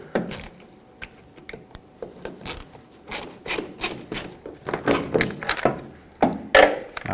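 A screwdriver backs out the four screws holding a tail light on a 1995-2004 Toyota Tacoma pickup, making close, scattered clicks, scrapes and light thunks that grow denser and louder toward the end.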